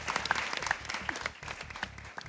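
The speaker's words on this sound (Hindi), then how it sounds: "आज तालियां होनी चाहिए अहमद शहजाद के लिए" A studio audience on a Pakistani cricket talk show, a PSL special, breaks into a short burst of applause, with dense clapping over a low rhythmic music bed.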